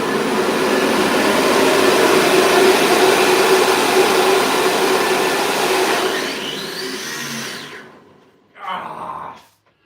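An electric drone motor spinning hard while sun gears burn in, a steady loud whirring drone that holds for several seconds, then winds down with a falling pitch and cuts off, followed by a brief clattering noise.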